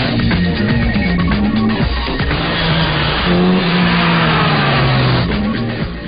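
An old Austin-Healey races through corners on a track, its engine droning loud and steady, rising and falling in pitch as it brakes and accelerates, with a faint tyre squeal and no talking.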